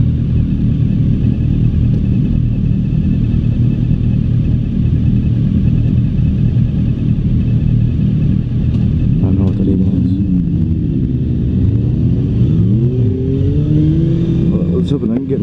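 2016 Suzuki V-Strom 1000 motorcycle riding, a steady low engine rumble under wind noise that rises into revving toward the end.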